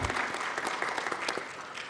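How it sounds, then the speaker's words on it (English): Applause from the audience at a mining industry conference ceremony, a steady dense patter of many hands clapping throughout, moderately loud with no voices over it. "I think that actually deserves a round of applause and a hand clap for you"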